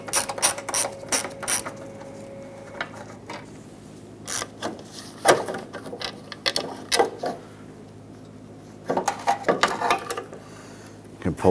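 A T15 Torx bit backs out the two screws holding the light in the fender of a 1997-2006 Jeep Wrangler, making bursts of quick ratcheting clicks separated by pauses, close and fairly loud.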